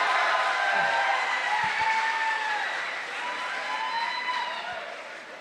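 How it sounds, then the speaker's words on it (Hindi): An energetic crowd applauds at an annual mushaira at Gujranwala Medical College: sustained clapping with some cheering fills the hall, gradually easing off, and a voice can be heard faintly underneath. "एक बार भरपूर तालियां अपने लिए"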